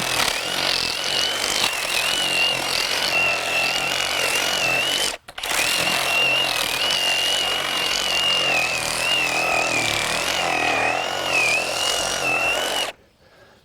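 A RIDGID R8647 18V brushless reciprocating saw hammers through frozen sand with a loud, harsh, continuous buzzing whine, pausing briefly midway before resuming and stopping abruptly at the end; close up, no talking.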